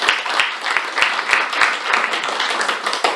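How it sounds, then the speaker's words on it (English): Applause at a joint Toastmasters club meeting: a room full of people clapping at close range, dense and lively throughout, with a few sharper individual claps standing out. "Let's give her a big applause."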